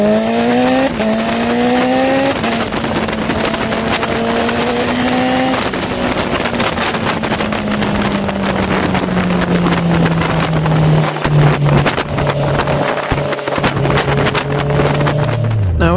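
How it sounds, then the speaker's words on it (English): A Honda CBR650R motorcycle engine drones steadily while riding, rising and falling through gears, heavily buffeted by loud wind noise at close range. "I only just started the engine."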